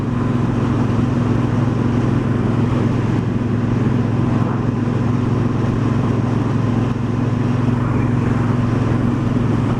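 A 2018 Triumph Bonneville Bobber cruiser motorcycle rides along with a steady, close engine drone and constant wind rush for the whole stretch, holding an even pitch and loudness without gear changes or pauses.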